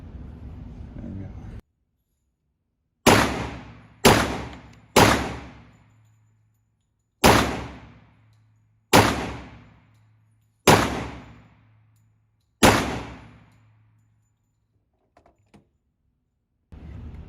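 Seven loud, sharp shots from a 10mm Glock pistol at a shooting range, spaced unevenly over several seconds, each with a short decaying ring, with faint background noise before and after.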